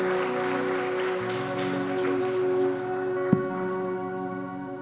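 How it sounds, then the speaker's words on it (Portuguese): A church congregation applauds steadily, its clapping mixed with sustained music and capped by one sharp knock near the end, with no speech. "Forte aplauso para o Senhor."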